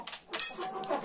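Young Adler Silver hens and laying pullets give a few brief, soft clucks close by in their poultry pen, a short scattered burst of bird calls with no one speaking.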